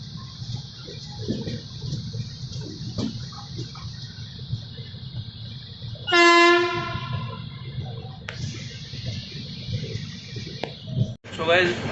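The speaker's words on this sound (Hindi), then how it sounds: "हमारी ट्रेन जालंधर कैंट से डिपार्ट कर चुकी है।" The Shri Shakti Express pulls out of Jalandhar Cantt with a steady rumble of rolling railcars, and a loud horn blast breaks through partway along. Faint background voices carry on throughout.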